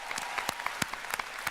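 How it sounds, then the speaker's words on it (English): Crowd clapping at a PlayStation gaming convention in Anaheim, a brief burst of scattered, uneven claps with sharp individual hits. "give yourselves a round of applause for joining us here in Anaheim"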